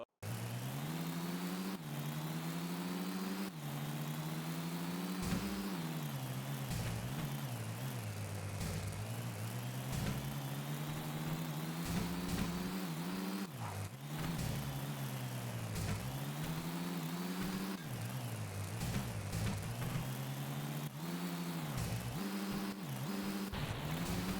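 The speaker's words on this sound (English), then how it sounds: "Fucking car's so loud, the music just feels quiet." Steady car engine drone from driving in the video game Tony Hawk's Underground, a loud continuous mid-pitched hum that rises and falls with speed over the full length, with no talking.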